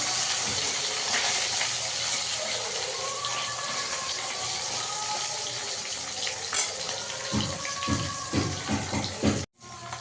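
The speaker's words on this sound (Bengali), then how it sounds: "মাছগুলোকে একটু উল্টে দেবো, একটুটা ভাজা হয়ে গেছে।" Fish pieces, freshly flipped, frying in a wok of hot oil give a strong, continuous close-up sizzle that eases slightly over time, with a few soft knocks near the end before it cuts off abruptly.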